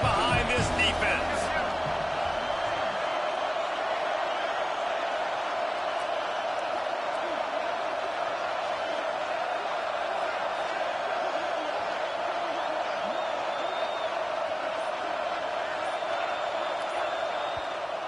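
A football stadium crowd roars steadily behind a defense on a big third down, a dense sustained wall of cheering and noise that holds loud and even throughout, with a few brief thuds early on.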